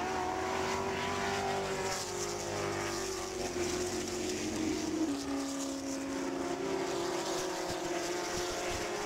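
Ford GT40 race cars racing at Goodwood Revival, a steady distant engine drone with a wavering tone as cars pass, continuous and fairly faint with no voices.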